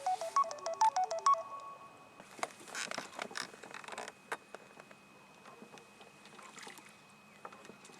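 A phone ringtone plays a short melodic tune on a fishing boat in a quiet cove, then gives way to rustling handling noises and faint water sounds with no talk.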